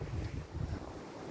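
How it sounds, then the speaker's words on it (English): Wind blows snow around outdoors, buffeting the microphone with a strong low rumble and a steady hiss. "The wind is blowing the snow and kind of swirling it all around."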